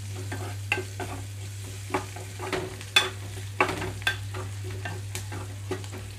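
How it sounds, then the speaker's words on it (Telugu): Onions frying gently in a pan for buttermilk curry while being stirred: a soft, low sizzle broken by intermittent spatula scrapes and clicks, over a constant low electrical hum. "2 నిమిషాలు ఇలా కదిలించుకుంటూ వేయించుకోవాలి మాడిపోకుండా."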